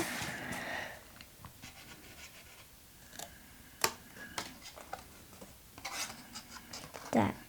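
Bracelet packaging is cut along its lines by hand in quiet, intermittent scratchy strokes and small snips, with sharper clicks near the middle and end, while people talk softly.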